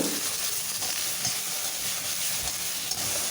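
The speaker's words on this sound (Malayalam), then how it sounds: "ഇനി ആവശ്യമായ ഉപ്പും ചേർത്ത് നല്ലതുപോലെ ഇതൊന്ന് ലോ ഫ്ലെയിമിൽ വഴറ്റിയെടുക്കാം" Brinjal sautéing with salt in a pan over a low flame gives a steady, close sizzle and hiss, with soft stirring scrapes now and then and no talking.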